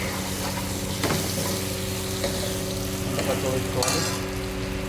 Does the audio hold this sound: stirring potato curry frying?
yes